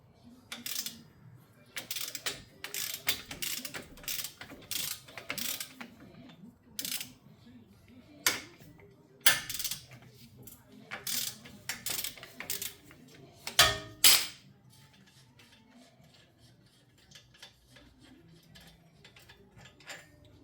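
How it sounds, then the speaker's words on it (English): A ratchet clicks as a mounting bolt is worked loose during a car repair. Quiet, close clicking comes in short rhythmic runs with irregular pauses and gradually thins out toward the end. "We get ready to take out one of the first mounting bolts."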